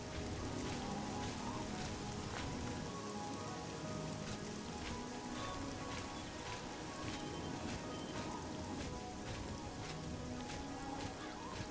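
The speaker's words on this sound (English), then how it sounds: "Sounds like the rain is dying down." Steady rain falls in The Elder Scrolls IV: Oblivion, a constant hissing patter on surfaces with no pauses, heard alone at moderate level throughout.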